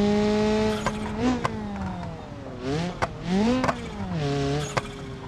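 A car engine in a racing game revs high with a whining, shifting drone that rises and dips through gear changes, punctuated by short sharp clicks, loud and close without talk.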